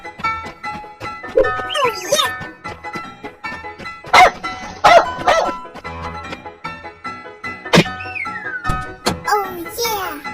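A cartoon dog gives several short, bright barks mixed with childlike voices and playful background music.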